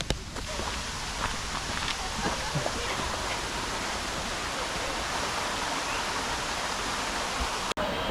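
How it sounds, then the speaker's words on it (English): Waterfall in New York City pours in a steady, broadband rush close by, a constant roar filling the whole clip, with a brief dropout near the end. "Let the waterfall heal my brain."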